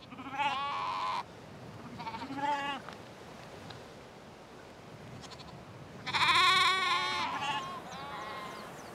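Sheep bleat on a farm on the Isle of Lewis, several loud wavering calls near by, separated by quieter pauses.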